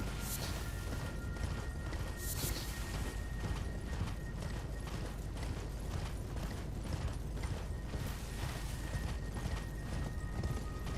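Horse hooves pound in a steady galloping rhythm in Elden Ring, repeated clip-clop impacts layered over a constant dense rumble of game noise, with no talking.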